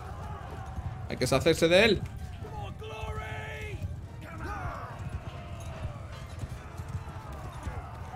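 Horse hooves clip-clop in Mount & Blade II: Bannerlord, a brief loud burst of galloping hoofbeats near the start, then the battle goes on with someone talking over the game audio throughout.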